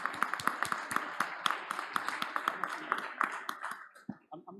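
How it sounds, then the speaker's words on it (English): Audience at a startup pitch event clapping after a round of applause is requested, a moderate patter of individual claps at medium distance that thins out and fades toward the end. "Give them a round of applause"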